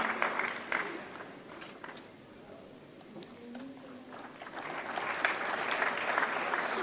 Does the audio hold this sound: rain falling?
no